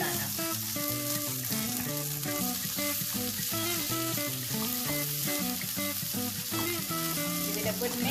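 Sabudana (sago, tapioca pearls) frying in a pan, a steady close sizzle with soft stirring scrapes throughout and no talk.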